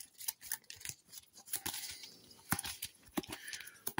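A small deck of eight Nemo's War board game cards being shuffled by hand at close range, a rapid series of crisp snapping and flicking card sounds with no talking.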